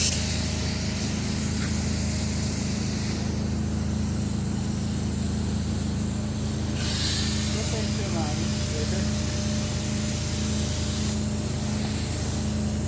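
Spray foam gun spraying polyurethane foam at a construction job, a steady loud hiss running continuously throughout with a constant mechanical hum beneath and brief bursts of louder spray.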